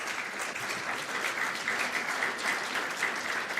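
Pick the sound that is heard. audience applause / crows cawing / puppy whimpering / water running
audience applause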